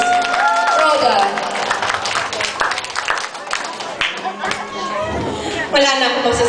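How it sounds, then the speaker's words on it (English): Guests at a birthday party give warm applause for the birthday girl, a lively stretch of crowd clapping mixed with chatter, cheers and voices. "Can you give her a big warm applause,"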